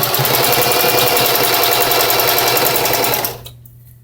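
A sewing machine stitches ribbon over fringe on fabric, a fast, loud, steady mechanical rattle running for about three seconds before cutting off into quiet.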